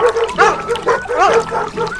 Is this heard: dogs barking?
yes